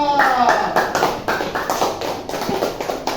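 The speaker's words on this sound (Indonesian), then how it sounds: "Tepuk tangan untuk kelompok 2." A classroom of students claps for a group presentation in a lesson on faith, fast close-up hand claps in uneven bursts, with a voice heard briefly at the start.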